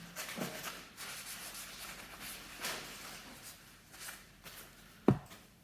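A rag wipes excess lubricant off the stem of a Dualtron electric scooter, making soft, close rubbing and scuffing strokes with a sharper knock near the end.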